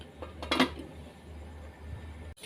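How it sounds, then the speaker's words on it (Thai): A brief metallic clatter of a lid settling onto a pot of stewing chicken bones for noodle soup, followed by quiet kitchen background. "ปิดฝาหม้อไว้ครับ"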